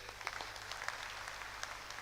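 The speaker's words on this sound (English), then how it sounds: "a round of applause for him" Audience at a conference showcase session gives a round of applause, a steady, dense patter of many hands, fairly faint and distant, with no talking.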